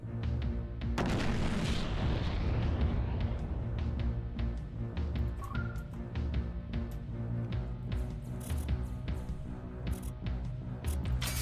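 Ship cannons fire in Treasure Planet: Battle at Procyon, a sustained barrage of booming shots that rolls on continuously, with a heavy blast near the start and repeated bursts layered over a dense low rumble.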